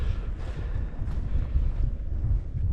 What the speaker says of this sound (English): It's too windy, I think, up here.